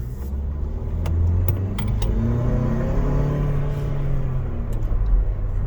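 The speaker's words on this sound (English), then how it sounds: "I'm gonna give it some gas one more time here." A Ford Bronco's engine revs under throttle, a close, steady rumbling drone that swells and holds for several seconds with no talking.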